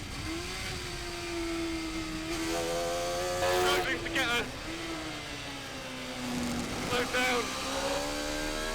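Sports 1000 race car engine on the Croft circuit, a steady droning note that dips and swells through corners, heard from inside the car, with faint tyre or braking noise and a voice talking over it.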